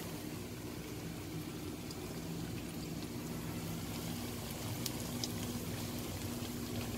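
Four pieces of spiced fish frying in hot ghee in a pan make a steady, soft sizzle and bubbling hiss that continues without a break at low volume.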